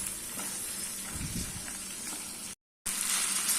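Potato and green peas sauté in a pan for broken wheat kichadi, a steady close sizzle and crackle of frying with a brief stir, cut by a short gap of silence near the end.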